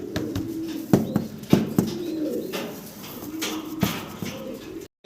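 Pigeons coo softly and repeatedly, with occasional sharp knocks and rustles nearby, in a quiet indoor space.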